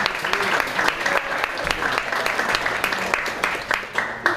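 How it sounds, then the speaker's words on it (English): An indoor audience at a law firm office gives a sustained round of applause, dense steady clapping with a few voices mixed in. "Let's give him a round of applause."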